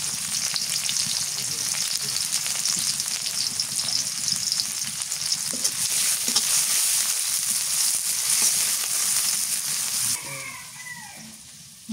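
Chopped onions fry in mustard oil in a wok with a loud, continuous close-up sizzle and hiss, occasional stirring scrapes, and the frying drops away near the end.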